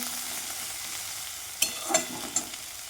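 Ginger and chili powder frying in a pan for a Bengali chili-hot dish, giving a steady close sizzle with a few sharp stirring clinks near the end.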